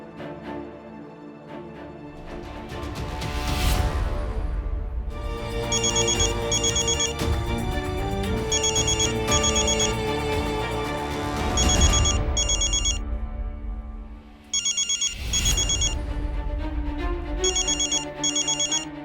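A telephone rings after a missed call is returned, a melodic electronic ringtone repeating its phrase several times, loud and close, with brief gaps between the rings and no talk over it.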